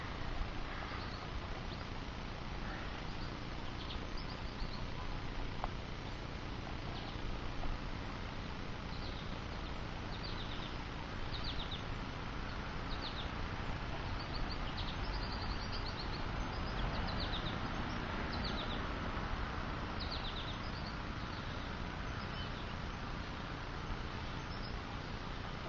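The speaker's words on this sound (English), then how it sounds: "These are goldfinches. Oh, and there's a woodpecker." Goldfinches and a woodpecker call faintly in short, repeated high chirps over a loud, constant roar of road traffic along a residential street.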